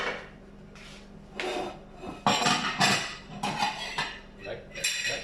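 Plates are set down one after another on a counter for serving veal with quinoa, producing several sharp, close ceramic clinks and scrapes separated by short pauses.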